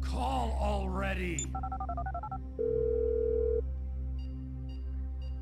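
A phone call in the video game GTA V: a voice at the start, then a quick series of stepped dialing tones, followed by a steady, moderately loud ringing tone that stops, then faint beeps.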